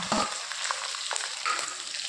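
Green chilies fry in a pan of hot oil, a dense steady sizzle with a few crackling pops near the start, for a crab gravy.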